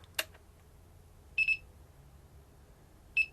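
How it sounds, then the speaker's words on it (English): A wooden FPV quadcopter's flight controller beeping: a sharp click followed by two short high beep pairs spaced apart, clear and close against a quiet background. "another 2 beeps will sound when I turn this off"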